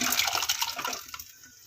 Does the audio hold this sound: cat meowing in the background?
no